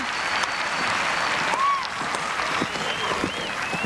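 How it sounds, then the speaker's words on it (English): A crowd at the 1987 duMaurier International show jumping event bursts into sustained applause and cheering after a jump-off ride by Ian Millar on Big Ben, with a whistle rising briefly over the clapping. "And the crowd goes wild."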